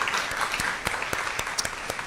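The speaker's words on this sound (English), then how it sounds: "another round of applause for Mr. Mills" Brief, fairly quiet applause at a Tucson Unified School District governing board meeting, honouring Mr. Mills, with scattered individual claps standing out over a soft wash of clapping.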